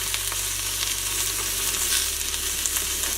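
Chicken pieces frying in a hot pan just after being flipped, a steady close sizzle crackling throughout with a few faint stirring scrapes.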